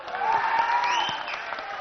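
Audience applause fills a hall at a 50-year celebration of the Telugu film Soggadu honouring actor Sobhan Babu; steady, dense clapping runs throughout, fairly loud and close, with a faint tonal hum beneath.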